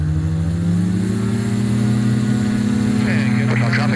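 A light aircraft's piston engine holds a steady, loud drone through a touch-and-go at Woodstock's runway 31 and keeps running at full throttle throughout, its tone rising slightly in the last second.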